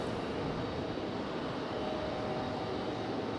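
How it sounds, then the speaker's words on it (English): Steady broadband jet engine rumble from a Boeing 777 bound for London pushing back at Raleigh-Durham (RDU) airport, a continuous, fairly distant roar holding level throughout with no voices. "because our 777 to London is pushing back"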